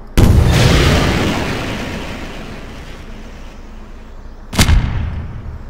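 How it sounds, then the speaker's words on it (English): A video game missile launches with a sudden loud boom that rumbles off into a long fading roar, then a second sharp blast hits a few seconds later, close and heavy, with no talking. "Missile launch."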